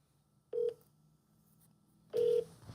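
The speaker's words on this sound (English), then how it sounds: "We're calling Amber Halkowitz, Information Records Supervisor, Sheriff's Department" Two touch-tone telephone keypad beeps sound while a call is placed to a sheriff's office. The first is short, the second longer, with quiet line hiss between them.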